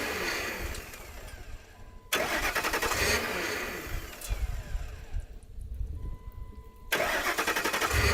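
A disabled Ford F-150 cranks and struggles to catch, with loud, close engine bursts broken by short quieter gaps, and no voices.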